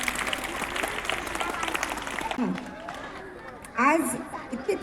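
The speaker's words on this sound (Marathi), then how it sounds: "सगळ्यांनी जोरदार टाळ्या वाजवायच्या आहे ताईसाठी." Applause from an audience at a school Women's Day programme honouring a guest, a dense wash of clapping for about two seconds that then gives way to talk.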